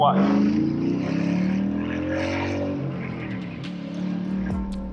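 A Jeep Wrangler Rubicon 392 with a Hemi V8 rumbles nearby in a deep, throaty idle that rises and falls with a few revs, and a voice is heard alongside it.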